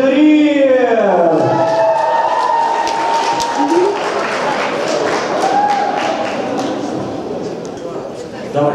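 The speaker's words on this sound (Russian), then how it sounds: "Давайте, давайте, аплодисменты." Crowd applause breaks out at a cosplay stage show, steady clapping and cheering that swells and holds throughout under a loud announcer voice and music.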